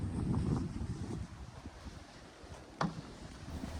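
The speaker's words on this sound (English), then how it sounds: "It's still pretty windy" Gusty wind buffets the microphone outdoors beside a horse being groomed, a soft, low rushing that swells and fades, with one sharper gust near the end.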